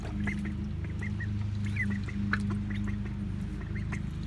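Ducklings quack and peep in short, light calls scattered over a steady low hum, several small birds close by, with no talking.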